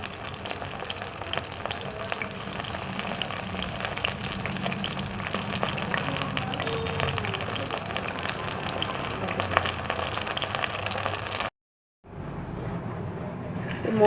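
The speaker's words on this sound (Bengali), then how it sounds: "এটাকে লাল করে একটু ভেজে নিচ্ছি।" Mushrooms frying in hot oil until browned for chilli mushroom, a continuous dense sizzle with stirring scrapes throughout, briefly cut to silence near the end before the sizzling resumes.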